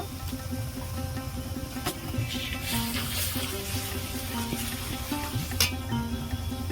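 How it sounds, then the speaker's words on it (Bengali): Garlic fried in a pan, with ginger paste being added, for egg biryani, gives a steady close sizzle that runs throughout, with scraping stirs and a few sharp clinks. "রসুন আমি ভালো করে কষিয়ে নিয়েছি আদা বাটা দেব"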